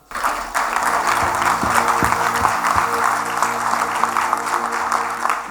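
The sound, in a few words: audience applause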